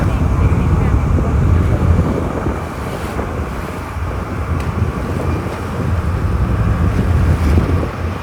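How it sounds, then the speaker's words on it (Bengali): Strong sea wind buffets the microphone at Kanyakumari while large ocean waves roll and crash below, a loud, continuous roar with a person talking over it. "মানে এত হাওয়া সমুদ্রের যা ঢেউ এই ঢেউ আমি সহ্য করতে পারছি না দেখো বিশাল ঢেউ বিশাল ঢেউ"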